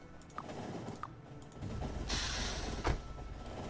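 A train in the video game Factorio running on automatic, with a low mechanical rumble that swells into a broad hissing rush and a brief clunk near the end, steady and fairly quiet.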